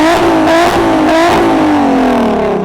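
A street car's exhaust barks as the engine revs hard in a few quick pulses, then the pitch slides down smoothly as it winds off, loud and close.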